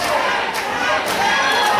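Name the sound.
wrestling crowd chanting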